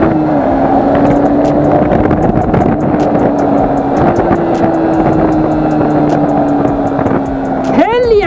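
A 2020 BS6 KTM Duke 200 motorcycle roars steadily while being ridden, its engine note holding fairly level with slight pitch shifts, under heavy wind buffeting and a voice talking over it.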